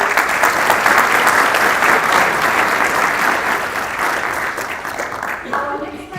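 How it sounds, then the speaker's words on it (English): An audience at an academic learning analytics debate applauds warmly, with dense, sustained clapping that fills the room and then tapers off as a voice begins at the end. "A warm applause and look forward."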